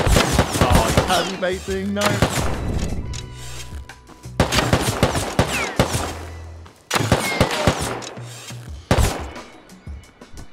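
Gunfire in Rust comes in loud clustered bursts of rapid shots separated by short pauses and fading echoes, with a brief spoken word between volleys.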